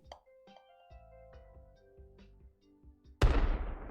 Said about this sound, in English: It's a massive explosion.